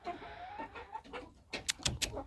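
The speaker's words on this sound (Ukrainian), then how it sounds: "Шановні кури, прошу вашої думки. Будете нестися в гніздо?" Chickens cluck in a coop, a close run of short throaty clucks and calls that get louder and sharper in the last second, with no talking.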